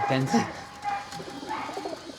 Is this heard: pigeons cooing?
yes